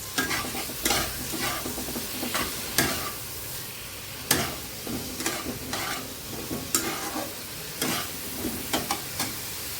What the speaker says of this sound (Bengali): আলু টমেটো সব দিয়ে একবারে কষিয়ে নিচ্ছি।